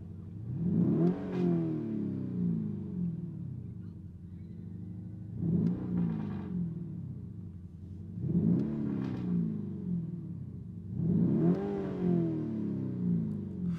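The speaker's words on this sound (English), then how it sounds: "Let me give you a few revs, and then we'll be jumping outside to listen to the sound as well." A Lamborghini Urus Performante SUV with an Akrapovic exhaust revs four times in a steady rhythm, each deep rising roar swelling and falling back to a rumbling idle, close and fairly loud with no talking.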